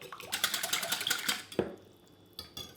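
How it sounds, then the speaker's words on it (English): A whisk clatters rapidly against a bowl while wet ingredients and vanilla essence are beaten together, a quick close rhythmic tapping for over a second, then a knock and a short final burst. "I'm going to use a whisk and I'm going to bring all that together."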